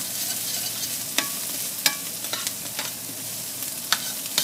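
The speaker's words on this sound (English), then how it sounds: "You just want to keep the pan moving so your onions don't start to burn." Diced onions and tasso sautéing in a pan that keeps moving, a steady sizzle broken by several sharp scraping stirs, close and loud, with no talk.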